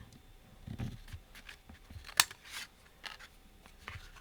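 Card paper trimmed with scissors for a Mother's Day gatefold card: a few separate crisp snips and paper rustles, one sharp cut standing out, close and quiet.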